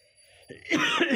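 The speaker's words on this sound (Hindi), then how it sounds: "मुझे खांसी है" A single short cough bursts out close to the mic after a quiet moment.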